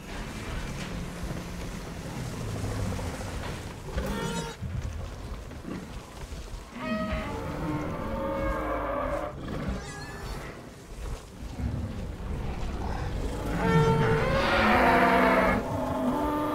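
A Parasaurolophus from the 2022 skin in Jurassic World Evolution 2 gives long, low, resonant honking calls that repeat through the clip. A louder, brighter call rises near the end over a steady rumbling background.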